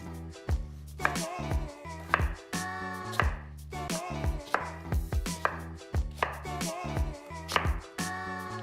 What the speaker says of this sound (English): we're gonna go ahead and wash these potatoes and then cut them up